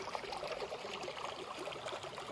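A small, muddy stream flowing steadily, a soft continuous trickle and wash of water at close range with no break across the stretch.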